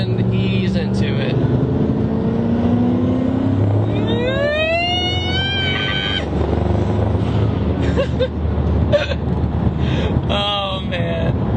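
Ford Mustang California Special accelerating along a road, its engine rising in pitch through rising gear sweeps over wind noise and road rumble, with someone talking at the start.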